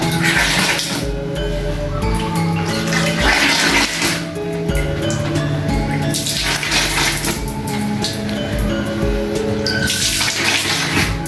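Water drawn up from a sacred spring well splashes and pours continuously, loud and close, with a steady rushing and gurgling stream that has brief surges.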